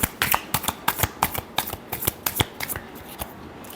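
Tarot cards shuffled in quick, crisp riffling bursts, a rapid train of close snapping flicks with no talking.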